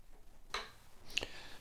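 A straight flat edge rocks across guitar frets during fret levelling, giving two faint, separate ticks about half a second apart in an otherwise quiet room.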